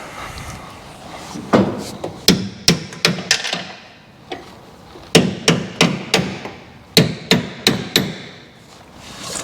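Hard hammer blows on new brake parts of a rusty Chevrolet Nova come in quick bursts of four or five sharp clanks, separated by short pauses, loud and close.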